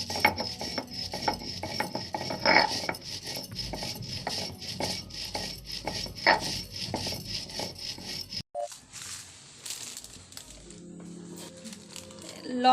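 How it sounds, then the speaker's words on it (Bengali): Roasted cumin is being ground dry on a flat grinding stone (shil), with close, rhythmic scraping and crunching strokes. The strokes shift to a softer, different rubbing texture near the end. "একটু ঠান্ডা গুঁড়ো করে নিচ্ছি"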